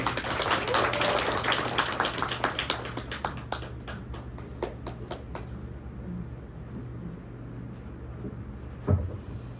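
An audience at an academic conference applauds to welcome the institute director, with a steady patter of clapping that thins out and fades over several seconds against a low room hum.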